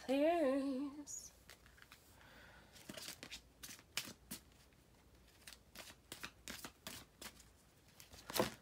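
A deck of tarot cards is shuffled by hand in quick repeated riffling bursts, close and fairly soft, after a brief bit of tonal sound at the start.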